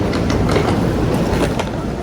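A train at a station in Japan gives a steady low rumble and rolling rattle, loud and continuous, with no voices on top.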